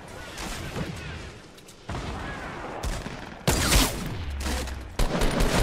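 Bursts of gunfire in the Fortnite battle royale video game, aimed at a player in the sky, come in several loud sharp clusters with a heavier boom near the middle, under a busy game backdrop.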